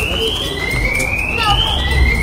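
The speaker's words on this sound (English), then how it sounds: "that's the panic alarm of the offices area" A panic alarm sounds in the offices area of an old prison: a continuous rising electronic whine, steady and fairly loud, carrying through the building under background noise.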